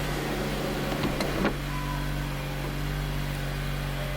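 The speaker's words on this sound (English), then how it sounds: "Moonroof works." Moonroof motor of a 2004 Acura RSX Type-S, a quiet steady electric whir with a soft mechanical clunk near the start, heard alone over a low hum.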